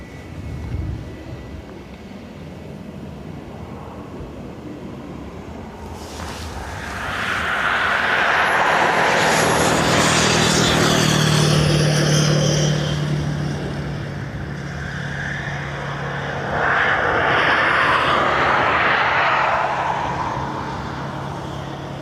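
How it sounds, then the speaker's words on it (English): A Ryanair Boeing 737 Max arriving from Alicante swells from a quiet distant hum into a loud, sustained jet roar, easing briefly and then surging again as it passes near, with no talking. "next up we're Ryanair from Alicante."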